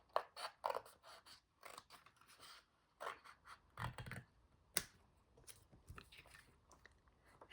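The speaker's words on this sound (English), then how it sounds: "we're just going to cut along that score line and that score line, and we'll remove that." Scissors snip through paper along scored fold lines while a paper pocket pouch is crafted, giving a series of close, crisp cuts and crunchy snips in short irregular bursts.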